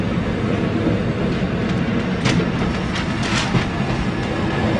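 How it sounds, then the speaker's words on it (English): Onboard a passenger train riding through Switzerland toward Santa Maria Maggiore, a steady loud rumble of wheels and carriage runs throughout, with faint rattles and clicks now and then and no talking. "We're on a train."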